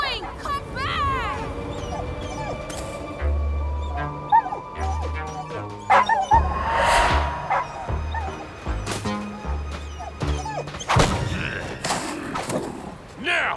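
A cartoon puppy yips, barks and whimpers in short bursts amid action music, thumps and characters calling out.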